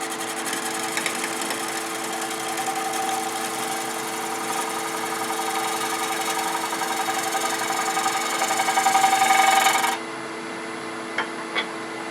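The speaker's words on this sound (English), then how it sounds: "bring it across and use it as a shear scraper, or shear scraping technique" A negative rake scraper shear-scrapes a spinning wood piece on a lathe, giving a steady hum with a rough scraping hiss that swells briefly before cutting off, followed by a few faint clicks.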